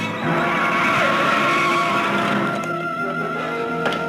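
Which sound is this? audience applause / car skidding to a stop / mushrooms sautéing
car skidding to a stop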